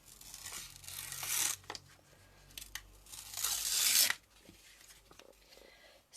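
Scissors snip and crackle through a stamped paper teacup being cut out for a handmade card, in close, uneven bursts of crisp paper noise with short pauses between cuts.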